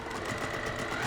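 A sewing machine runs steadily at close range, stitching the edge of a cross stitch mug rug in one continuous, even whirring hum with no pauses and no voices.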